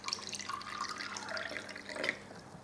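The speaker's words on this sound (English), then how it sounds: "I just pour some water." Water poured into a glass or container for a supplement drink, a light splashing trickle with small drips, close and moderately quiet, without speech.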